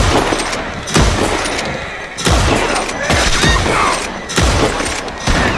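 Repeated gunfire in Red Dead Redemption 2 during an online bounty hunt, with five loud, evenly spaced booming shots about a second apart, each with a short rumbling tail.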